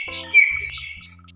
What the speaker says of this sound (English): Where is the bullfinch?